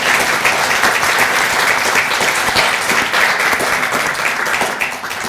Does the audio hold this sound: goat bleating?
no